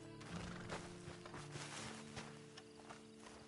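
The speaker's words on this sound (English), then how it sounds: "And you better get on this horse." Horse hooves clip-clop steadily in a PS4 video game, a soft, even walking rhythm with a possible brief whinny near the start, under background game music and ambience with no talking.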